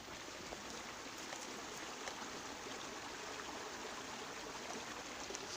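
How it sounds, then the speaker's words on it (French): A small waterfall cascades outdoors, giving a steady, dense wash of splashing water that stays constant and fairly close throughout, with no voices. "On entend une petite cascade"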